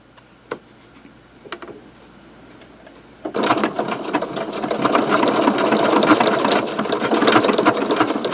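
A sewing machine stitching decorative patterns on red material with white thread, beginning with a few isolated clicks before breaking into a loud, continuous, rapid mechanical whir.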